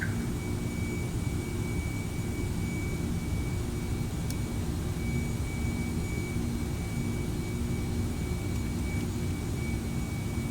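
Boeing 747-400 jet engines roaring steadily on the takeoff roll in a flight simulator, a constant loud, broadband rumble with a faint high whine and no breaks or talking.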